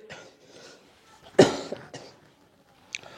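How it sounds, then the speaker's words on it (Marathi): A single sharp cough from a man with a sore throat bursts out close by, followed by quieter throat sounds and a faint second cough a moment later. "जरा घासा खराब झाला आहे त्यामुळे खोकला येतोय"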